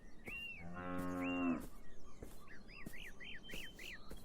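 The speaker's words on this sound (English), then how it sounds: "Oh, there's a cow." A cow in the video game Beyond Eyes gives one drawn-out, close moo, surrounded by quick, repeated bird chirps against a quiet outdoor background.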